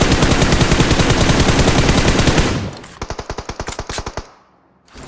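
Automatic gunfire in the mobile game PUBG Mobile: a loud, dense sustained burst of rapid shots, then a slower run of distinct individual rounds that breaks off into near quiet.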